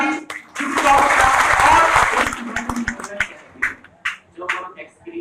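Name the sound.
audience applauding loudly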